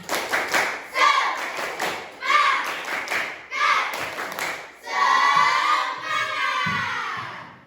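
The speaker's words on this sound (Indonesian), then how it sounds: "Biar tambah semangat, kita tepuk semangat dulu." A group, likely a classroom of children, performs the Indonesian 'tepuk semangat' rhythmic clap, bursts of patterned claps in several repeated phrases, then a sustained cheer or shout of voices at the end.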